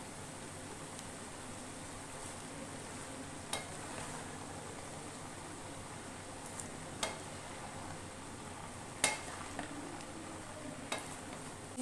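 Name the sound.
stirring spices into mooli and palak sabzi in a pan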